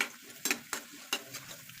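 A spoon scrapes and stirs a tempering of urad dal, chana dal, mustard seeds and cumin frying in oil for tomato pickle, giving a few close, sharp scrapes over a soft, steady sizzle.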